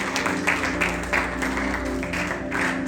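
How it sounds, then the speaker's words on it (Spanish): A church congregation claps in a steady, rhythmic beat of overlapping palms, moderately loud and filling the room, with no talking. "Denle fuerte palmas al Señor"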